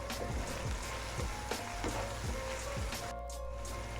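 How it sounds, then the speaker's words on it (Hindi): Vegetables frying in a pan for desi masala pasta, a steady close sizzle and crackle running throughout with a few soft stirring scrapes, no talking. "सब्जियों को अच्छी तरह फ्राई होते तकरीबन 3-4 मिनट हो गए"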